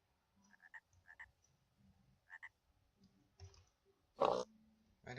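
Frogs in the Minecraft-based modpack Hexxit make soft, repeated croaks and clicks in short paired bursts, ending with a louder, more resonant croak. The sounds are faint and come without any talking.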